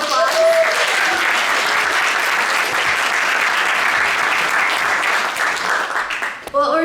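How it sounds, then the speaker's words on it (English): A crowd at the 2023 Washington State Poetry Out Loud final competition claps in a full, sustained burst of applause that swells early, holds steady for several seconds, then thins out and fades near the end. "Can we get a round of applause?"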